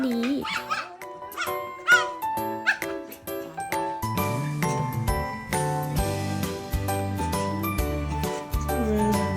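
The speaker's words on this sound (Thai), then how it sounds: "เด็กๆก็จะบังคับด้วยการเห่าแบบนี้เลยค่ะ" Toy poodles barking and yipping close by in excited, rapid bursts over a backdrop of music, with someone speaking over parts of it.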